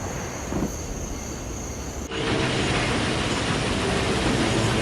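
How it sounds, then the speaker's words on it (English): A steady rumbling train in the Wii game Red Steel 2 with a high whine, then an abrupt shift to a louder, broader rolling roar that continues steadily; no one speaks. "That's the train."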